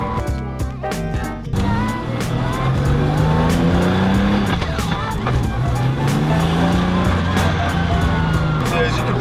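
A 600hp Toyota Chaser drift car with a BMW gearbox works through second and third gear, engine roaring steadily as tires squeal in long sustained stretches, loud and close after a brief quieter opening.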